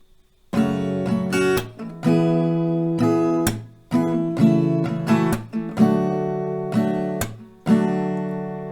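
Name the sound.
acoustic guitar strumming chord progression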